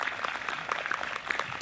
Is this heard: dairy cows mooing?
no